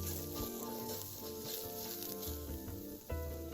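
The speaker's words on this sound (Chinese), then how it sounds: "再將預先泡軟後小香菇20朵倒入炒一炒香" Soaked small shiitake mushrooms stir-fry in cooking oil over medium-low heat, sizzling and crackling closely and continuously, with scraping stirs and a sharper clatter near the end.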